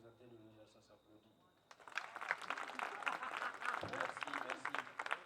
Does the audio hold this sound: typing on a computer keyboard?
no